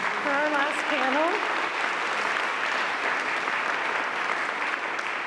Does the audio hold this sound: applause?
yes